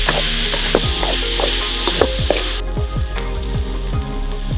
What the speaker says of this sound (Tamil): வேக வச்ச காய்கறி சேர்த்துக்கலாம். இப்போ நல்லா கலரிக்கலாம்.